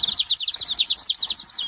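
Baby Rhode Island Red and Buff Orpington chicks cheep in rapid, high, repeated peeps, close and clear with no talking over them.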